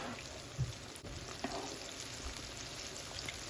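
Oil sizzles and crackles steadily as battered chicken pieces for General Tso chicken fry in a pan, a continuous frying hiss with a few soft knocks and bumps, no talking.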